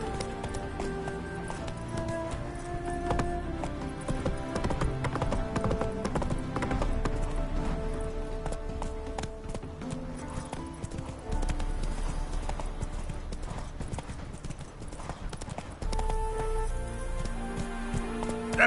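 Roach, the horse in The Witcher 3 video game, gallops with a rapid, steady clip-clop of hooves, loud and continuous throughout, with a faint background bed of game ambience.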